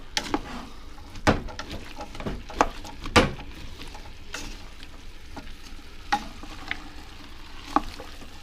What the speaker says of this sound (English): Now we're just going to give this a stir around. Mix the flour in,